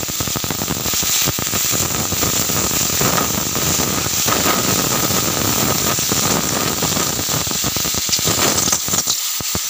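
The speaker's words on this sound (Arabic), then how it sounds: "نشوح اللحمة." Meat searing in a pot on a gas stove for a Damietta-style potato and meat tray, giving a loud, continuous sizzle and crackle with scattered sharp pops, close by and without speech.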